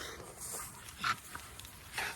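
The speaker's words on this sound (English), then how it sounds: "That little puppy is biting people." A young Blue XL bully puppy gives brief high whimpers and yelps while biting, faint and close, with small shuffling movements between the cries.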